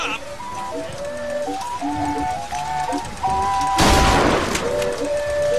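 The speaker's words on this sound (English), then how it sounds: "Shotgun's cool." A shotgun firing in the video game Bioshock Infinite: one heavy, loud blast midway rises over game music and ambient tones, with a few lighter thumps around it.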